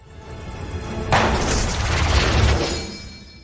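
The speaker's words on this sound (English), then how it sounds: "The killer shot again." A gunshot in a dramatic film scene rings out loud and close as one heavy boom, then a long, rumbling decay under low background ambience.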